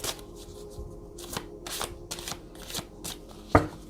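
A tarot deck is shuffled by hand in a quick, close run of papery riffling bursts, ending with a sharper slap of the cards settling.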